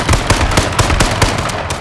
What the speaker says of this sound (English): Oh, I'm being shot.